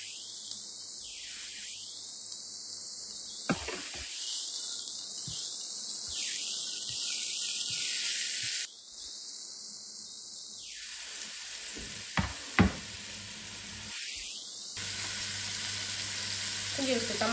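Chopped onion fries for a cream soup, a steady bright sizzle running throughout in a pan, with occasional stirring clinks and brief gaps where the crackle dips.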